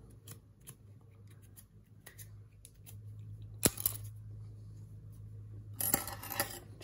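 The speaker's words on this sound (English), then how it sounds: "I'm using hair scissors to trim this, by the way, and not your regular pair." Hair scissors trim a deer hair fly up close, giving a few sharp metallic snips over quiet room tone, with the loudest cuts coming in the second half.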